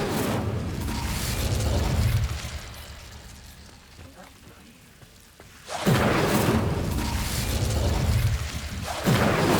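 Booming blasts of an Incendio fire spell in Hogwarts Legacy, two loud bursts separated by a quieter lull, with a voice calling out over the effects.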